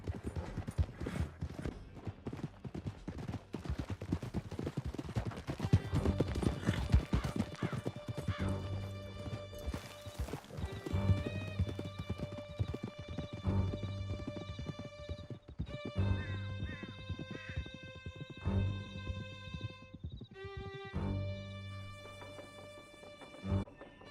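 Horse galloping in Red Dead Redemption 2, with rapid hoofbeats and a few neighs and whinnies. Music swells in and plays over the steady clatter.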